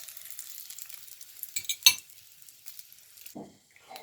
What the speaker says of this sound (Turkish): Sucuklarımız biraz kızarsın.